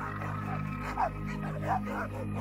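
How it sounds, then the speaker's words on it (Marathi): Dogs bark and yip at night on a deserted street, a few short calls scattered over a steady tonal background, moderately loud and without speech. "कुत्रे भुंकत होते."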